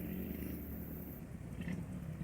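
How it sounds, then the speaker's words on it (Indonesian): A Suzuki Next motorcycle's small engine runs at a steady, low idle, faint and rough, a continuous mechanical rumble with no voices. "Ini motor Suzuki Next 2"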